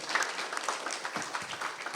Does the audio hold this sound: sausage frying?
no